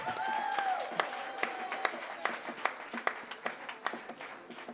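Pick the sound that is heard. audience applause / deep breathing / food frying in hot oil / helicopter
audience applause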